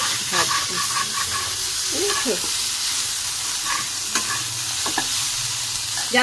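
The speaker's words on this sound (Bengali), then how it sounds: "এটা উচ্ছে ভাজা হচ্ছে" Salted bitter gourd pieces fry with dried red chillies in a pan, giving a loud, steady sizzle with scraping stirs throughout, and faint voices in the background.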